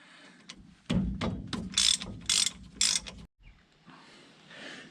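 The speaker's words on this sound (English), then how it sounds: "Just getting the last nut off now" A ratchet wrench undoes nuts on a Jeep, with bursts of rapid clicking pawl sounds and metallic clunks close by, separated by brief pauses.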